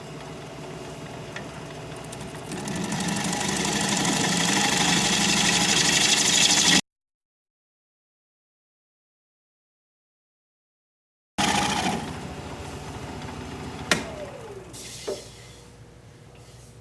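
Wood lathe spinning a maple bowl at 740 RPM while a bowl gouge cuts, a steady rising whirring hum with scraping texture, broken by a gap and then resuming with a few sharp clicks.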